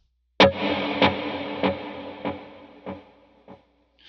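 An electric guitar note struck once, then repeated about six times by a delay, each echo softer and evenly spaced before fading out.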